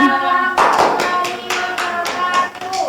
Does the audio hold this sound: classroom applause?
yes